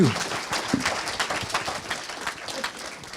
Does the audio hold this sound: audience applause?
yes